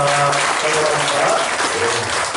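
A church congregation applauds during a Sunday worship service, a loud, dense and steady wash of clapping that fills the space, with a voice heard over it.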